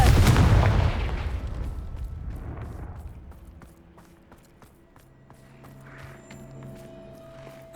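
A Confringo blasting spell goes off in Hogwarts Legacy, a loud close burst at the start that rolls off into a fading rumble, followed by quiet game ambience with faint footsteps.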